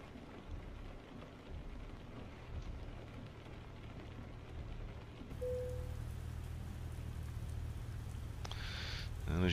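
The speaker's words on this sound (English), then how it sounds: "it's a nice effect, the rain, to be honest" Steady rain pours in Euro Truck Simulator 2 with a cold rain mod, a continuous hiss of drops on the truck under a low rumbling engine, with a brief tone and a burst of noise near the end.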